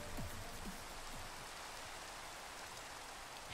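Steady rainfall patters down in a video game world, a constant hiss of drops on surfaces that holds level throughout, with a few faint low chirps early on and no talk.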